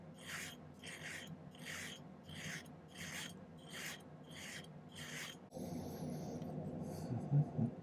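A hand file rasps across silver sheet to taper a ring shank, about nine steady rhythmic strokes up close, then stopping as quieter handling and small clicks follow.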